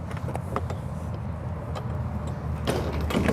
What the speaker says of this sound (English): Now I'm gonna shut these rear doors.